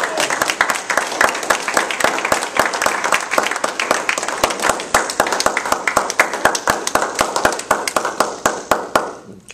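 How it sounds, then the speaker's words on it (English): An audience at a Toastmasters club contest results announcement claps for the winner, loud dense applause that holds steady and then thins out toward the end. "Please give a warm round of applause and congratulations to Mr."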